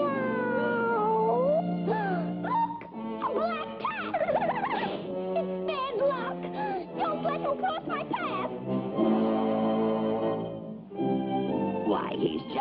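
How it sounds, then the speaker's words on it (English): A cartoon cat meows and yowls in a series of pitched, wavering cries over a busy backing of other cartoon voices and sound effects, fairly loud and continuous. "He's just a harmless cat which wants to make friends."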